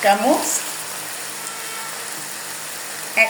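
Ingredients for khichuri fry in a pan, a soft steady sizzle running under a brief voice at the start and a short sound near the end.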